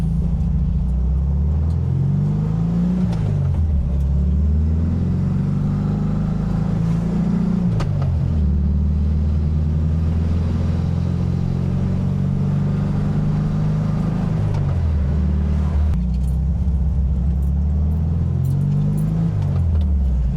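A 1968 VW Fastback's air-cooled engine drives down a street, a loud steady drone rising and falling through several gear changes and accelerations, close and continuous with no talk.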